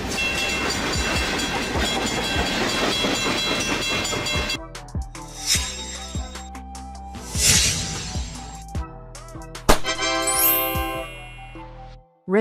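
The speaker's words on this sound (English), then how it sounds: "Freight train. A train dedicated to transporting goods and cargo rather than passengers." A freight train rolls past in a loud, dense rumble with rhythmic wheel clatter, then thins into separate clanks, squeals and metallic rattles before cutting off.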